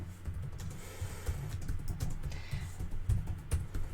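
Rapid, uneven clatter of fingers typing on a computer keyboard, close and fairly quiet, with no voices.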